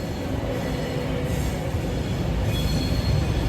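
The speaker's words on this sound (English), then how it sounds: "Also departing is Avanti West Coast, 390042 off to London Euston." Avanti West Coast class 390 electric train 390042 departing Carlisle station for London Euston, a loud continuous rumbling wash of wheels and motors with faint high squeals, steady and close throughout.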